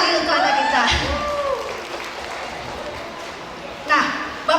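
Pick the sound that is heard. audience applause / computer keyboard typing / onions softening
audience applause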